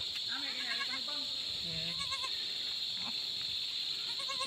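A goat bleats several times after giving birth on a farm, with calls rising over a steady high hiss of background noise.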